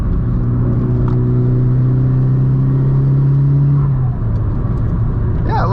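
A Nissan S15 engine hums at partial throttle from inside the car, a steady loud drone holding pitch for several seconds, then easing off as the note drops, with a voice speaking briefly near the end.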